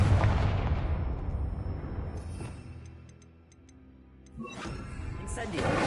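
Confringo blasting spell in Hogwarts Legacy on PlayStation 5: a heavy booming explosion that decays over a few seconds, followed by light ticking game effects and a second burst of impact noise.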